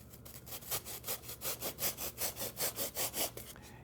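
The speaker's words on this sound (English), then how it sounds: "Then just use a coping saw, or you can take it to the bandsaw and just kind of rough cut close to that line" A hand saw, such as a coping saw, rough-cuts wooden cove molding in a steady series of about fourteen rasping back-and-forth strokes, close and even in rhythm.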